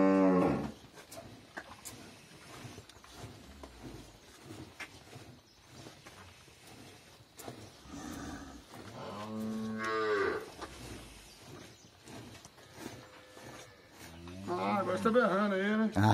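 Cattle moo repeatedly in a corral during morning hand milking, several long low calls swelling at different moments, with people talking quietly in the background between them.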